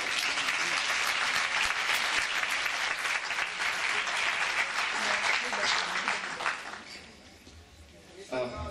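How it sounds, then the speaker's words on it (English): A conference hall audience applauds at a UNESCO model closing ceremony, dense and loud clapping that holds for several seconds, then thins out and fades near the end as a voice begins to speak. "You deserve an applause."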